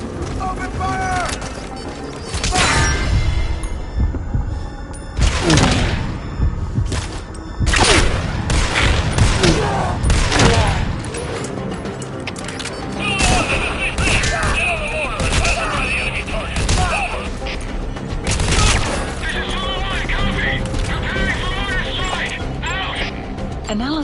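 Rapid gunfire bursts from Metal Gear Solid V: The Phantom Pain crackle loudly in clusters over tense game score, with mechanical clicks and voices talking between volleys.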